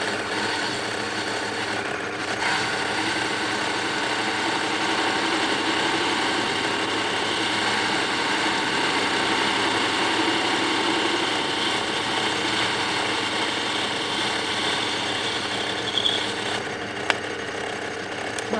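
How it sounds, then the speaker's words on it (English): A metal lathe running while parting off, a continuous mechanical whir and grinding hum that holds steady for the whole stretch, with a few small clicks near the end and no talking. "Something I don't like doing in this lathe is parting."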